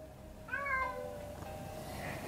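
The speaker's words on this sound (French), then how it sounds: "On a notre chat qui est un peu difficile." A house cat lets out a single meow near the half-second mark against a quiet indoor background, with no talking.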